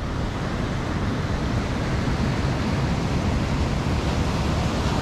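Pacific Ocean surf at Wilson Creek on a foggy coast, heard as a steady, distant wash of breaking waves that forms an even, unbroken roar with no talking.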